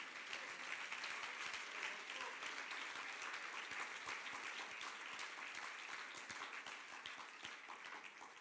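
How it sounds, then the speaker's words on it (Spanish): A church congregation claps together in steady, dense applause during a sermon, an even wash of hands sustained throughout at moderate distance. "Dele el aplauso al Señor."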